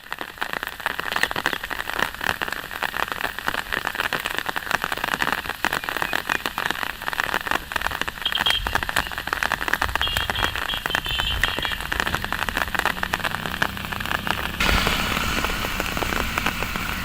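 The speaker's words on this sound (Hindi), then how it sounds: "रुक रुक कर हल्की बारिश दर्ज की जा रही है" Light rain falling intermittently over farmland in Jammu and Kashmir, a steady close patter of drops on surfaces that holds throughout, with a dull shift in texture near the end and no voices.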